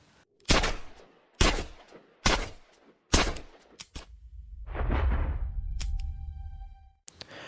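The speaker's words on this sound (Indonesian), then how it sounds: "dengan satu tarikan Devi menghabiskan semua peluru Matthew menembak mati Jaginder." Gunshots in a dramatic Indian film scene as a gun is emptied: four loud, sharp shots at even intervals, each ringing briefly, followed by a low rumbling swell and sustained tonal music.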